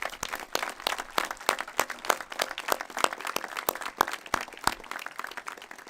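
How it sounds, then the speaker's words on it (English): Audience at a high school graduation applauding retirees, a steady wash of many hands clapping at moderate distance for several seconds without speech. "I think all of us should give a round of applause for all the retirees."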